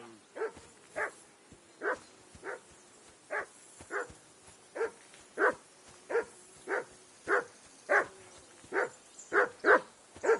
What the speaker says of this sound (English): What's all the dog fuss about, Matt?